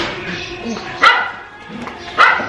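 A dog barks in a street alleyway in Jodhpur, India: two sharp, loud barks about a second apart over a steady bed of background noise and voices.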